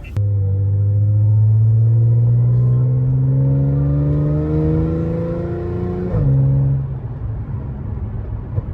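A 2015 Audi S5 engine in dynamic mode revs up and accelerates with a rising, throaty rumble, briefly shifts gear, then settles lower, loud and close.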